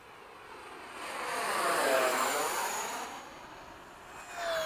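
An E-flite 80mm F/A-18D RC jet makes a low pass at full throttle after sunset, its ducted-fan whoosh swelling as it approaches, peaking overhead and fading away, then a second rise starting at the end.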